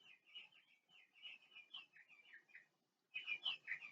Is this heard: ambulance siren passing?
no